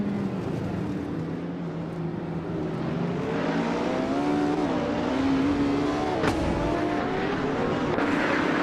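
Race cars pull away from the start at the Mont Tremblant GP Alternate circuit, with a 2022 McLaren Elva in the lead. Their engines blend into a loud, continuous drone that climbs steadily in pitch as they accelerate.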